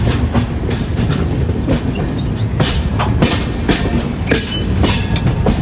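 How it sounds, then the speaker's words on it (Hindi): A Darshan Express train rolls slowly along the rails, a low rumbling drone with irregular clacks and metallic knocks from the wheels, heard close from on board a non-AC coach. "ट्रेन यहाँ से काफ़ी धीरे धीरे आगे की तरफ बढ़ रही थी।"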